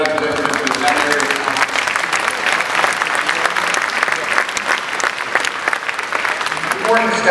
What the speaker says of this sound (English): I'd like to just have you join me in one more round of applause for Dr. Mary Roberts,